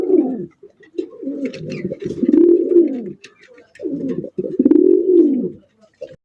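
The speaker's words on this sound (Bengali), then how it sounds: "এখানে রয়েছে একজোড়া সবজি রেসার কবুতর" A pair of racer pigeons coo in a repeated pattern of soft, throaty rolling calls in two long bouts separated by a short pause, close and clear, with no talk.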